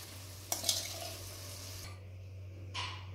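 Chicken sizzles and bubbles in gravy in a pan for biryani, with a couple of sharp stirring scrapes and splashes, over a steady low kitchen hum.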